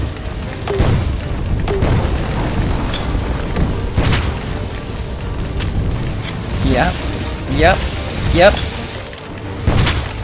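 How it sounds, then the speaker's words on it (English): Grenades in Heaven Dust 2 go off as several dull thumping booms amid game noise, with a person talking over the action throughout. "I want to pretend these grenades are hurting him"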